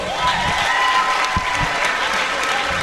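A packed high school gym crowd claps and cheers for athletes at a boys' basketball game, Ashland at West Holmes. The applause is loud, dense and steady for the whole stretch.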